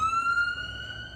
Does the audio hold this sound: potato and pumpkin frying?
no